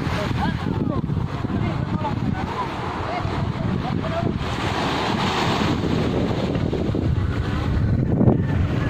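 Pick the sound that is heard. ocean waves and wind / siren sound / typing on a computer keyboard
ocean waves and wind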